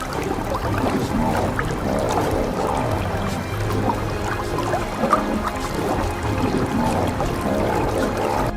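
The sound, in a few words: lionesses splashing water at the river bank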